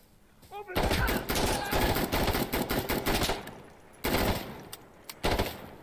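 Gunfire in Insurgency Sandstorm, loud and close, with dense shots and bursts filling most of the moment, a short lull, then more sharp shots; a voice is faintly present underneath.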